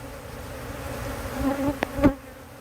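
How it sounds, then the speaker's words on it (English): Dense, steady buzzing of many honey bees close by at a hive in late summer, a low droning hum with a couple of brief louder knocks near the end. "It's a lot of bees."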